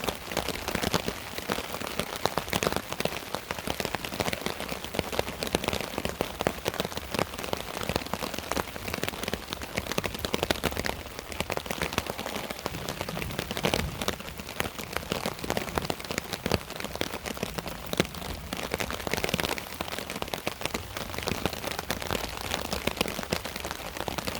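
Steady rain patters on surfaces around a dispersed campsite in Michigan, a dense, even hiss of drops that continues without a break, with no talking.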